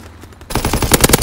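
Covering gunfire in Call of Duty: WWII, a loud burst of rapid machine-gun shots that starts abruptly after a quiet moment and hammers on in a fast, even rhythm.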